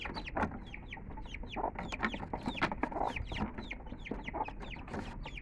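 Backyard chickens cluck and chatter in a small yard, several birds calling close by in overlapping bursts with a constant low rumble behind them.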